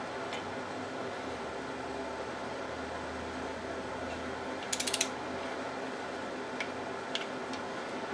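A ratchet wrench on the oil pump bolts of a 1999 GM 2.4 Quad 4 (LD9) engine gives a quick burst of close ratcheting clicks midway, then a few isolated ticks over a quiet room hum.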